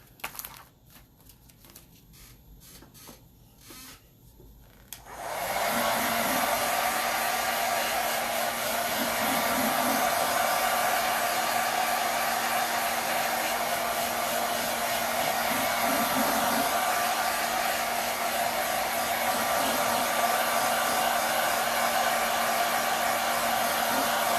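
A hair dryer switches on after a few seconds of quiet handling noises and then blows in a loud, steady roar close by for the rest of the time.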